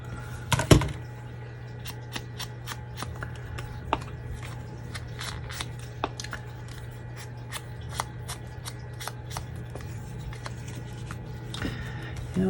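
Scissors cutting paper for a small journal page, a series of faint crisp snips spaced irregularly over a steady low background hum, with one louder rustle near the start.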